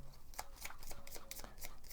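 A deck of event cards for the board game Crown of Emara is shuffled by hand at close range, a quick run of crisp riffling snaps and taps repeating steadily.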